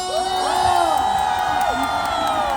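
A concert crowd at the 19th Cheongsong Apple Festival cheers, whoops and claps steadily and loudly throughout, with high shouted and whistled cries rising over the dense roar.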